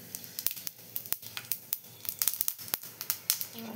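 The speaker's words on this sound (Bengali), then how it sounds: "কীরকম ফাটছে চটচট করে।" Cumin seeds crackle and pop in hot cooking oil, a quick irregular scatter of sharp, close snaps over a faint sizzle, with no voices.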